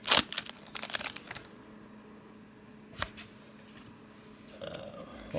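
Pokémon Rebel Clash card pack torn open by hand, with crinkling foil, a quick rip and rustling of the wrapper, loudest at the start and with short bursts later, no talking.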